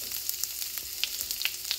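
Small pieces of garlic fry in oil in a pan, a close, lively sizzle with rapid crackling pops for a short moment.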